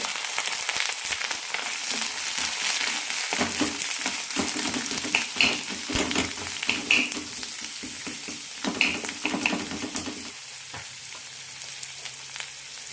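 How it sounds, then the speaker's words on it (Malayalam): Chopped onion and curry leaves sauté in a teaspoon of oil with a continuous close sizzle, broken by occasional stirring scrapes before the frying noise eases near the end. No one speaks. "ഒരു ടീസ്പൂൺ എണ്ണ ഒഴിച്ചിട്ടുണ്ട് ഇതിലേക്ക് സവാള ഇടാം കൂടെ തന്നെ കറിവേപ്പില ഇട്ടിട്ടുണ്ട്"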